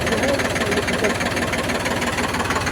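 A tractor engine idles nearby in a farm field, a steady rumble with a low, even chugging pulse and no voices.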